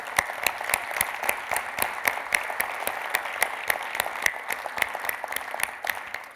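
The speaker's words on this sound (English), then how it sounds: "So a round of applause for yourselves." An audience applauds at an organisation's closing session, with sharp, distinct individual claps in a steady rhythm, fairly close and clear, with no talk over them.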